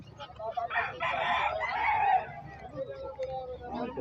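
A young rooster (stag) crows and clucks close by, a loud hoarse crow followed by shorter clucking calls, with faint background voices.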